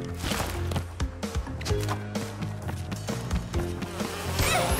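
Buzzing bees in Crash Bandicoot 2, a droning hum running under game music and scattered thumps and footsteps, with no talk.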